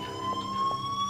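A bank alarm siren in the heist video game Payday The Heist rings as a steady, piercing electronic tone, with faint pulses and muffled background noise beneath it.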